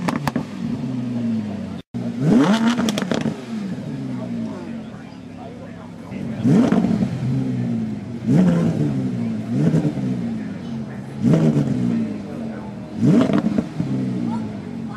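An Alfa Romeo Quadrifoglio engine revs in several sharp, loud bursts, rising and falling roughly every second or two, with people talking around it.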